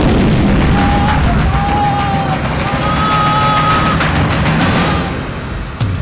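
A hidden blast goes off in dense Mizoram jungle during a guerrilla commando patrol: a loud, close, roaring burst that hangs on for several seconds before tapering off, with no talk.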